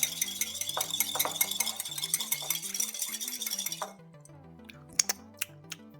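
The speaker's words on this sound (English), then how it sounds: "Okay, we mix this up real quick." A mustard and gherkin juice dressing is stirred briskly in a bowl, with rapid clinking spoon taps against the sides for about four seconds, then quiet with a few isolated clicks; a faint musical tone runs underneath.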